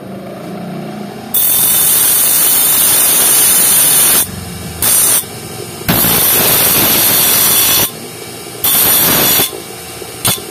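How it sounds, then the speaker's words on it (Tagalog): An angle grinder flattens protruding metal on a cast iron burner fitted to a glass-top stove. It gives loud, harsh, continuous grinding in several long bursts separated by brief drops in level. "Grinder lang natin para flat siya."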